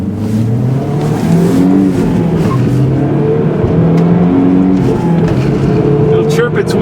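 A 2010 Mazdaspeed3 with a six-speed manual gearbox accelerates hard, its engine note climbing steadily in pitch through the gears and holding loud and continuous from start to finish, with a voice talking over it.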